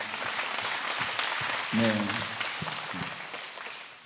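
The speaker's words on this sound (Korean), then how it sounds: "박수 한번 쳐줘요" A church congregation gives a brief round of applause during a sermon, a steady patter of clapping that fades out, with a voice briefly speaking over it.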